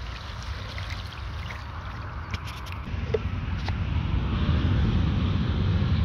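A home-made RC speed boat runs across open water, a steady buzzing motor hum mixed with water and wind noise that grows louder in the second half, with no talk.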